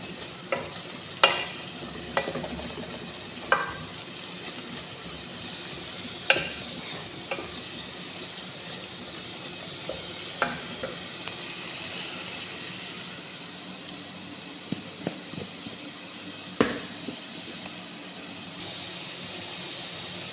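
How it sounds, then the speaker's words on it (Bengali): Chicken with ground spices such as cardamom, cinnamon and garam masala is sautéed in a pan, giving a continuous soft sizzle with periodic clacks of a spoon stirring, close by and without talk. "সব গুঁড়া মশলা দিয়ে আর কিছুক্ষণ আবার কষিয়ে নেব ভালো করে"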